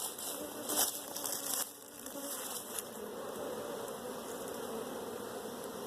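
Honey bees at an open hive buzz in a steady, close droning hum, with a few brief clicks and knocks of handling in the first seconds.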